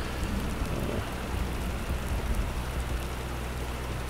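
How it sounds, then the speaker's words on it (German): Heavy rain pours in the farming game Farming Simulator 19, a dense, steady hiss of drops on surfaces with a faint low rumble, continuous and loud, no voices. "Und hier ist extrem viel Regen."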